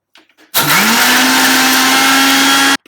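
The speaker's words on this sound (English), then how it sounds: "So I'm just going to put 2 packets of Oreo biscuit and grind it." Blender grinding two packets of Oreo biscuits, switched on with a rising whine that settles into a loud, steady, close roar for about two seconds before cutting off sharply.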